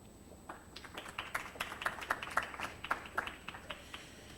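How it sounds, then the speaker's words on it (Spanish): Applause from an audience at a public health conference in Monterrey, scattered distinct claps building into a light, fairly faint patter, with a steady electronic tone underneath. "Un aplauso."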